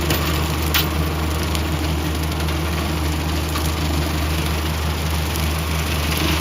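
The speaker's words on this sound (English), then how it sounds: "You see some brush getting thrown out, and that's the chain kit in action." A tractor drives a 6 ft Catawba rotary cutter fitted with a chain kit through thick brush and saplings, giving a steady, loud, close engine and blade roar with occasional faint ticks of debris and no speech.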